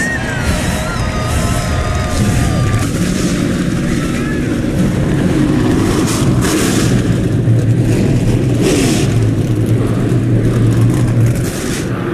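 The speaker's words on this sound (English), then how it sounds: "Drivers, start your engines!" At Eldora Speedway, SRX race car engines fire up and rev together in a loud, continuous roar that rises and falls over a dense mechanical rumble, with crowd and voices mixed underneath.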